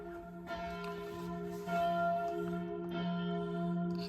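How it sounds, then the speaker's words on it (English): A church bell in the Dolomites, near a burial ground, rings repeatedly in a sustained, resonant peal, steady and moderately near with overlapping strikes in an open mountain setting. "there's the church, and that bell's going to go off quite often"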